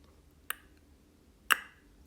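Two sharp, dry clicks from a joint cracking as it moves, about a second apart, faint and isolated against a quiet background.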